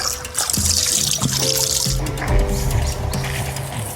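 Water gushes steadily from a pump motor outlet in a farm field, a continuous broad splashing flow, with brief background voices and faint tonal sounds mixed in.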